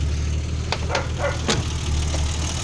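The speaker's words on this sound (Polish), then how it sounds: "Ależ to ładnie pracuje, rzędowa szóstka." BMW 325iX E30 from 1987 with a 2.5-litre inline-six idling under an open hood, a smooth low hum heard up close with a few soft mechanical ticks.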